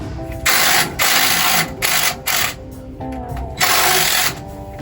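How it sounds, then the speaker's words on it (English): A power tool loosens a fastener on harvest machinery, running in several loud, close whirring bursts separated by brief pauses, with no talk over it. "power tools are a lifesaver."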